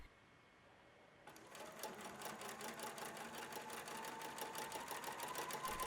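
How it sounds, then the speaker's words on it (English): After a moment of quiet, a sewing machine starts and runs in a steady, rapid, even rhythm, stitching stretchy Lycra swimwear from the crotch seam. "Start your stitching at the crotch seam."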